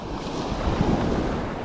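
Mild, sluggish ocean waves wash onto a sloping sandy beach, a continuous soft surf wash blended with wind noise and no voices.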